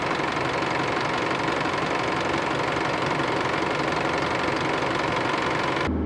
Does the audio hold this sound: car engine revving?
yes